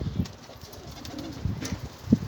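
An escaped pigeon, a stray from a breeding loft, coos in low repeated bursts with soft rustles and brief wing flaps, fairly close and alone with no talk.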